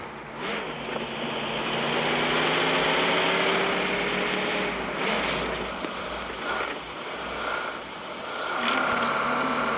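A car engine drones steadily in the PUBG video game, a continuous mid-pitched hum with slight rises and falls in pitch over about ten seconds, without talking.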